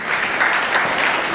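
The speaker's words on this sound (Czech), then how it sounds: "poprosím vás o velký potlesk pro všechny účinkující" A concert audience at a Prague folk music festival gives all the performers a brief burst of loud, dense applause.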